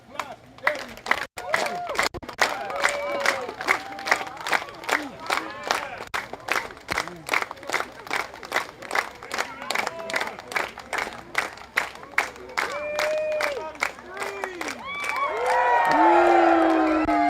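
At a Samoan cultural demonstration at the Polynesian Cultural Center, an audience claps in a steady rhythmic beat, with voices calling over it, building toward cheering and whoops near the end.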